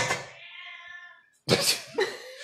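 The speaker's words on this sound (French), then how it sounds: "Bon, on dirait que quelqu'un lui marche dessus, ce chat." A cat meows loudly and insistently in a home kitchen during a cooking session: one drawn-out wailing meow, a short pause, then two more harsh, complaining cries close by.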